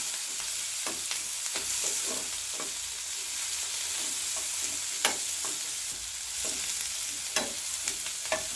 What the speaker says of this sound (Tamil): சேர்த்து கொஞ்சம் நல்லா வதக்கிக்கிடுவோம். கோல்டன் கலராக ஆகும் வெங்காயம்.